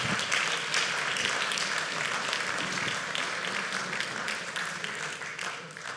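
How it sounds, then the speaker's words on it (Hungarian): Audience applause at a farmers' remembrance day gathering in Alsónémedi, a steady dense clapping that holds at an even loudness for the whole stretch and thins slightly toward the end. "Azt hiszem, hogy egy tapsot meg is érdemelne."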